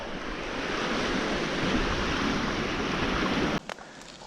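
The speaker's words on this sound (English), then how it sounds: "While I'm waiting for the wind to die down" Strong wind blows steadily over Batchewaung Lake in Quetico Park, a loud broadband roar that holds for several seconds, then drops off abruptly, leaving a few brief gusts behind.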